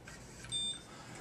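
A single short electronic beep from a CoaguChek XS INR blood coagulation meter sounds once, clear but not loud, against a faint background hiss.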